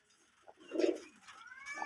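Pigeons at a loft with newly hatched chicks, a single soft, low coo close by followed by faint rustling, heard alone.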